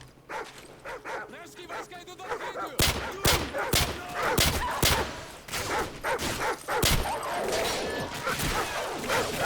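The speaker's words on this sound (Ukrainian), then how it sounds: "Знову ці собаки постійно мене, на мене нападають." Dogs bark and snarl repeatedly while attacking in the Call of Duty 4: Modern Warfare video game, mixed with bursts of gunfire and a voice talking over the action.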